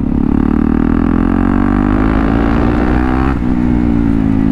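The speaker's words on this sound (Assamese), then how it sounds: "এতিয়া আমাৰ ফুল চিষ্টেম এক্ৰাববিক এক্সজষ্ট R1M সেই চাউণ্ডটো শুনিছেই" KTM Duke 390 fitted with a full-system underseat Akrapovic R1M exhaust, revving loud and close, pitch climbing steadily before a sharp drop near the end, no talk.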